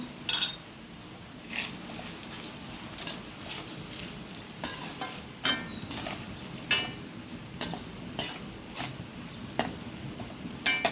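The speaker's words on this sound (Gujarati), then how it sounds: "મેં લસણની ચટણી બનાવી લીધી છે હવે આને ભીંડામાં નાખી દઈ" Garlic chutney is stirred into okra cooking in a pan: a soft, continuous sizzle under repeated sharp scrapes and clinks of a spoon against the pot, close and moderately quiet.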